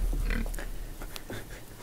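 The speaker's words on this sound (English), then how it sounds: "Let's go check out these pigs." Pigs on a farm give short grunting oinks scattered across the moment, fairly close, amid light background noise.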